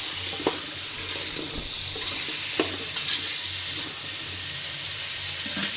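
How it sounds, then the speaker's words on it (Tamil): Drumstick pieces and potato sauté in a pan for a Tirunelveli sodhi coconut-milk curry, giving a steady close sizzle punctuated by a few sharp clinks of stirring. "முருங்கைக்காய் கொஞ்ச நேரம் வதக்கிட்டு அப்புறம் உருளைக்கிழங்கு"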